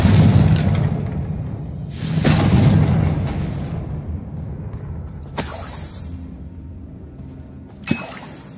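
Confringo fire spell explosions in the Hogwarts Legacy video game: a loud boom that rolls into a long rumbling decay, then a second burst with crackle and a sharp final pop.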